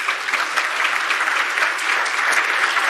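A conference audience claps for a speaker at the end of a talk, a steady, even wash of applause from a crowd that lasts several seconds with no voices.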